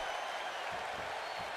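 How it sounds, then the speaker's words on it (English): Crowd noise from a wrestling arena in the WWE 2K17 video game, Smackdown event, is a steady, broad wash of cheering and applause at moderate level throughout the brief moment, with no talking over it. "Just cheering."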